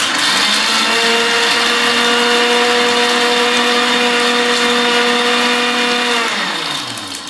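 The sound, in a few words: blender crushing ice for a Mai Tai cocktail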